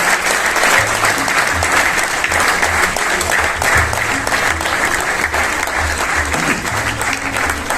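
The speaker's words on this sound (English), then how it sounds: "So a big round of applause for him, Mr. Mayank Mehta." Sustained audience applause fills the hall for a youngest platelet donor at a Tata Hospital event, a dense steady wash of clapping from a large crowd lasting throughout with no pauses.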